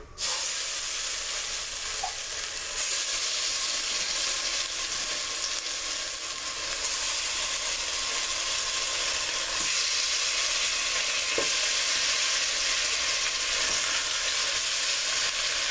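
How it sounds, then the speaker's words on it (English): Oxtails browning in hot olive oil in a pot, a steady, loud, continuous sizzle and frying hiss with faint pops, no voices. "Then you're going to add your oxtails, and we're going to brown them."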